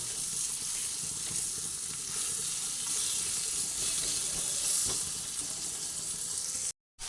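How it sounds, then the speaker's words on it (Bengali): Tomato frying in a pan with the gas flame turned up, for vegetarian ghugni: a steady, close, bright sizzle that holds evenly throughout and cuts out abruptly for a moment just before the end. "বাড়িয়ে টমেটোটা অল্প ভেজে নেব"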